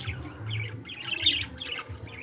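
Budgerigars in a nesting aviary give repeated harsh squawks and chirps, moderately loud and continuous, with a low rumble running underneath.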